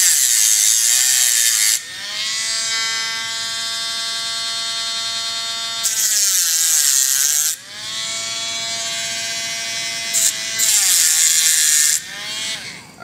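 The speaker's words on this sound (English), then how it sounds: "So I'm just going to cut a quick X in the top of this here, just with the edge of the Dremel bit here." A Dremel rotary tool cutting an X into the top of a metal pin: a high whining motor with steady tonal harmonics, broken by harsher bursts of grinding as the bit's edge bites into the metal in several passes.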